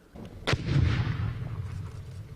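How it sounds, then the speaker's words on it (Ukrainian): A single sharp explosion of a grenade dropped from a drone bursts out, scattering fragments tens of meters, followed by a rumbling, fading roar of debris and echo. "Вибух чималий розльот осколків гранати на кілька десятків метрів."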